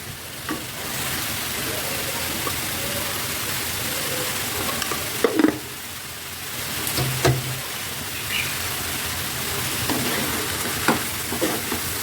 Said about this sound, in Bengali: ভাজিটাকে এখন শুধু ভাজা ভাজা হওয়া পর্যন্ত এভাবে ভাজতে থাকবে